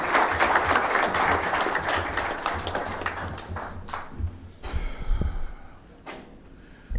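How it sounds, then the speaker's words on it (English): An audience at a felicitation ceremony claps in warm applause that starts full and gradually thins out, with scattered claps and hall noise as it fades. "Ladies and gentlemen, with a heartfelt round of applause"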